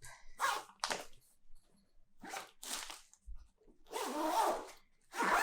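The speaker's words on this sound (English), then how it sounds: "I would zip this up" A luggage zipper pulled closed on a packed bag, heard as several quick, raspy zipping strokes close by, some short and some drawn out, with a dog barking faintly once.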